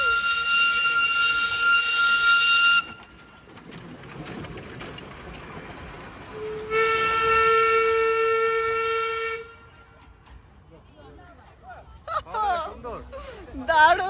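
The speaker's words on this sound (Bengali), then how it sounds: "চলে এসেছে টয় ট্রেন" The Darjeeling toy train passes at Batasia Loop, sounding two long, loud whistle or horn blasts separated by a short quieter stretch of rumble. Fainter mechanical sounds and voices follow near the end.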